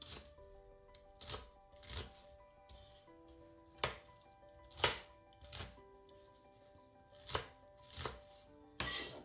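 Onion being chopped into pieces on a board for duck cabbage soup: sharp knife strikes come one at a time at irregular intervals, about a dozen, close and crisp over a quiet room.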